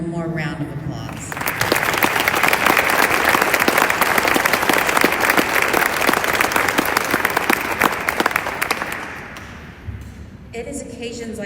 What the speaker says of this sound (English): Let's give tonight's award winners one more round of applause.